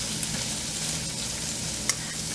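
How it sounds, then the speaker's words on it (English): Sausage and peppers fry together in a pan, giving a steady close crackling sizzle with occasional stirring scrapes and one brief louder pop near the end; no one talks. "I'm going to go ahead and add the sausage in. We're going to let those cook with the peppers and stuff."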